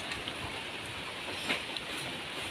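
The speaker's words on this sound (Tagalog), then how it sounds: "Okay lang guys, ang ulang-ulan." Heavy rain falls steadily in a broadband wash with faint patters, an even, continuous downpour with no voices heard.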